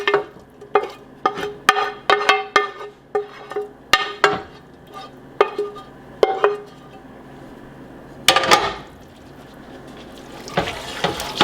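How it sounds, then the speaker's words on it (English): Vegetables are stirred into a pot of two-meat keto chili, with a series of sharp utensil clanks and scrapes against the pot at a steady rhythm, then a louder wet clatter and sloshing near the end. "I'm going to take my stirred vegetables, put that in there"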